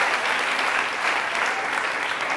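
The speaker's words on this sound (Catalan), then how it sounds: "Un fort aplaudiment per aquestes tres noies." A studio audience at a televised quiz show claps warmly and continuously, a dense even wash of applause from a large crowd that holds steady from start to finish.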